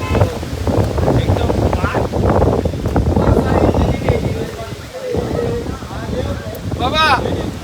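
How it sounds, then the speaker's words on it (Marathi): Strong wind at Panhala hill fort buffeting the microphone in loud rumbling gusts, with someone talking over it throughout. "इकडे वारा कसा बघितलं काही"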